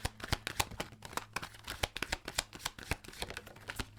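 Tarot cards shuffled by hand in a rapid, uneven run of crisp riffles and slaps, close and fairly quiet, with a low steady hum underneath.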